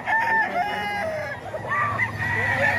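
A crocodile hen chicken crows loudly and close by, one drawn-out, wavering call filling the moment with faint background noise and no speech.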